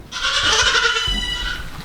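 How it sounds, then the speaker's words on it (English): A goat in a barn stall lets out one long, loud, close scream that wavers throughout, alone and unbroken. "And then they just scream at you."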